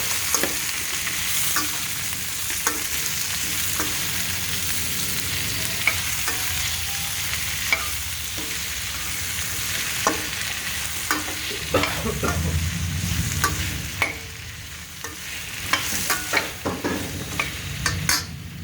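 Mustard seeds fry in a little oil with a loud, constant crackling sizzle, dotted with sharp pops and clicks that grow more frequent toward the end.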